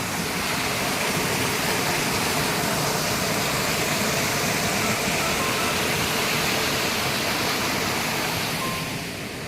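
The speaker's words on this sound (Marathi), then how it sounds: "इकडे बघू या ब्रिजच्या खालून पाणी" A loud, constant roar of rushing water, broadband and unbroken throughout, as if surging beneath a bridge close by.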